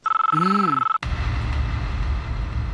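A telephone rings in a Telugu TV serial scene: a steady, bright electronic ring lasting about a second, cut off and followed by a broad background rumble.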